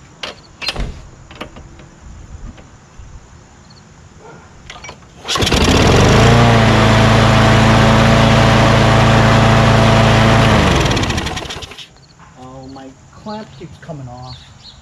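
A Craftsman push lawn mower engine fires up and runs loud and steady for about six seconds, then cuts out; brief talk and handling noises come before and after.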